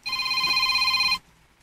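A telephone rings once with an incoming call, a loud, bright electronic trill lasting about a second before cutting off to near silence.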